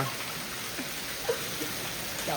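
Rain falls steadily with a soft, even hiss and a few faint drop ticks. The sound is quiet and distant, and no voices are heard.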